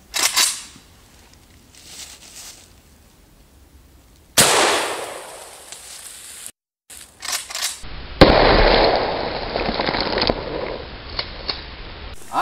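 Loud cracks of an AK rifle firing 7.62x39mm rounds into carbon fiber armor at an outdoor range, a few sharp reports with quieter gaps and handling noise between them.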